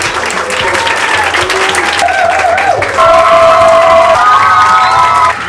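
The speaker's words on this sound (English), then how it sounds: "Which team will have the loudest clap?" A crowd applauds continuously and loudly, with cheering and children's shouts rising over the clapping.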